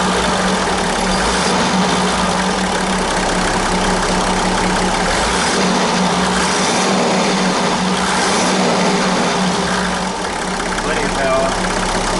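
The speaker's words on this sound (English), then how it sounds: "Alright, so I'm just going to show you the motor now. Motor there." A 1994 Toyota Coaster bus engine runs steadily close by, a loud continuous rumble and hum that holds level throughout with no break.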